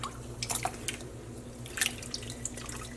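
Wool roving is lowered into a pot of dye water, producing intermittent close splashes, drips and trickles over a low steady hum.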